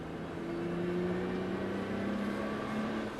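GT-R 550 race car at full throttle on a circuit, a steady sustained engine drone with rising tonal whine, loud and continuous with no voice over it.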